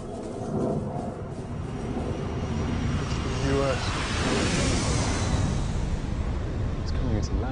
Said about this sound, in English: It's coming into land. It's not American, it's Russian. It's a blackjack stealth bomber.